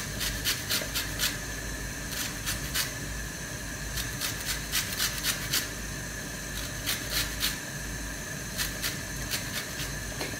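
Orange peel rubbed against a metal grater in a home kitchen, steady rasping strokes repeating in quick bursts with short pauses, close and fairly soft over a constant background hiss.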